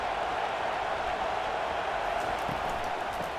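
A stadium crowd in the EA College Football 25 video game gives off a continuous dense roar, steady and fairly loud, with no single voice standing out.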